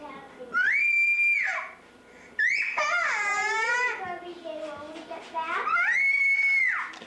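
Young girls scream and wail in a high-pitched, sustained way at an Easter family gathering, loud and close, with sobbing breaks between long shrill cries.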